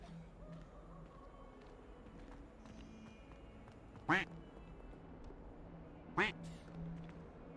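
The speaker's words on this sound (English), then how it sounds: "Is there a duck somewhere?" Two distinct duck quacks sound in the video game Hogwarts Legacy, a couple of seconds apart, each short and clear above a quiet bed of in-game ambience.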